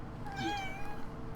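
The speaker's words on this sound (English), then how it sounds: "Sorry about the cat." A house cat lets out a single drawn-out meow, close and clear, over a low background hum.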